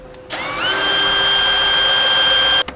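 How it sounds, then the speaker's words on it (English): Power drill boring through the steel frame of a 2017 Jayco Redhawk trailer for a 1/2-inch bolt, a loud, close whine that spins up, holds steady for about two seconds, then cuts off with a clunk. "you're going to want to drill straight through the frame"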